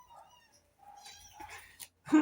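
Cats meow indoors, a few short calls close by with a louder, sharper cry at the end, over quiet room sound and brief murmuring.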